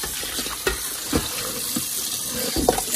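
Warm tap water running while beef ribs are washed in a kitchen sink, a steady close spray broken by splashes and handling clatters as the meat is rubbed under the stream.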